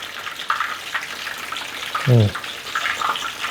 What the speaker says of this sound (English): we just got deep fry these for about 6 minutes until it's golden crispy here